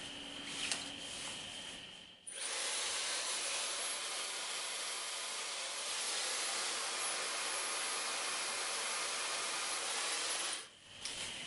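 Hair dryer fitted with a diffuser blowing on wavy hair, a loud steady broadband whoosh running about eight seconds, with brief quieter gaps where the airflow cuts at the start and near the end; no talking.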